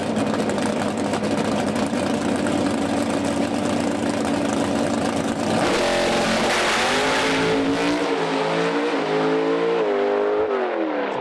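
A Pro Stock drag racing car makes a run at the track, its engine roaring loud and sustained at full throttle, then shifting up through gears with stepped pitch changes before backing off.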